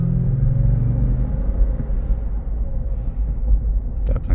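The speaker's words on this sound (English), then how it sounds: "Give it a little bit of gas." A 2023 Lexus GX 460 Premium engine rumbles as the driver gives it some gas on the road, a low steady drone heard from inside the cabin.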